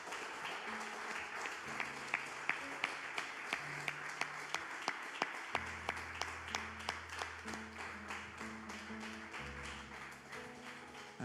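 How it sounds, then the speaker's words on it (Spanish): Church congregation applauding at the close of a Spanish-language service, a faint, steady run of clapping under low sustained music tones. "Levantemos un fuerte aplauso a nuestro Dios."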